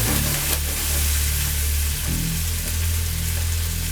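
Salmon searing in a pan alongside habanero-seasoned potatoes, a loud, steady sizzle close by with a low rumbling hum underneath, a brief stir or shift near the start and again midway, and no talking.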